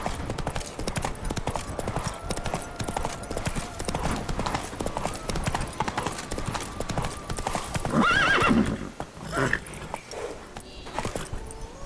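Roach, a horse in the video game The Witcher 3, gallops with steady clip-clopping hooves across the whole stretch, and a whinny rises near the end over dense game sound.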